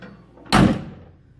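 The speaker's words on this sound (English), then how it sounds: "Door closes perfect." A door on a small Loadstar 1600 truck swings shut with a single solid thud, close by, followed by a short fading rattle.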